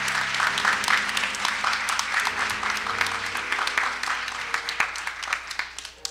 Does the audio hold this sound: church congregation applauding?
yes